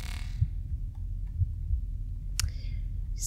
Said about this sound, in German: Dieses Herzklopfen.